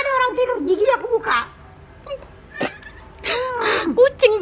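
A pet cat meows in a drawn-out, wavering cry near the start, then later lets out another rising and falling meow amid clatters and a short burst of voice.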